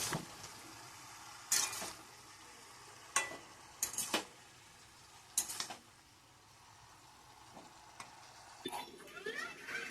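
Chili, onion and turmeric fry in a pan at low volume, a faint background sizzle punctuated by several sharp, separate scraping strokes of a spatula against the metal.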